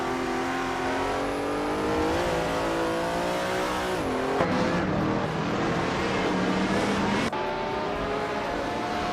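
Race cars, including a classic 1999 Lamborghini Diablo GT-R, roar around the Sydney Homebush circuit in a video game. Continuous engine whine rises and falls through gear shifts, with a sharp shift or pass near the end.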